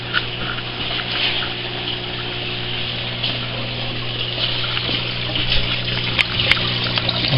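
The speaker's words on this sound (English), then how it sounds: "And then I pump it back up through here, up into that grow bed." Water pumped back up into an aquaponics grow bed in a home aquaculture setup, a steady, continuous rushing flow over a low, constant pump hum, with no one speaking.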